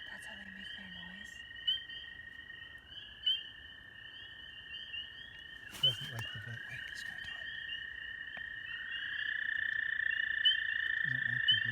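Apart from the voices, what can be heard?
spring peeper frogs calling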